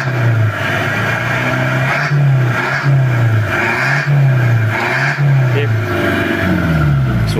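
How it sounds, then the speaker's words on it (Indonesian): A Mitsubishi L200 diesel engine, modified for a soft turbo whistle, is blipped repeatedly, rising and falling in regular close revs with a whistling tone on top. "Ayo gas untuk suara turbonya pelan ya lur"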